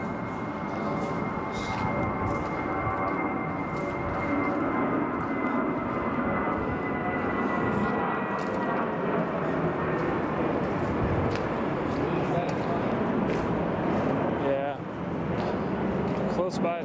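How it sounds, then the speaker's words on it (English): A steady, broad roar of an airplane passing overhead near an airport in the Bronx fills the whole stretch, constant and fairly loud, with faint voices and movement beneath it. "If you couldn't tell by the plane noises."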